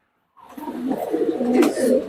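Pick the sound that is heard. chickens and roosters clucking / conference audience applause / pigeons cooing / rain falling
pigeons cooing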